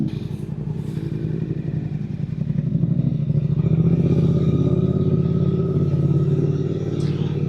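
A Suzuki GSX-8R carrying a passenger rides along with a steady, loud engine drone and road rumble that swells slightly midway, and no one speaks.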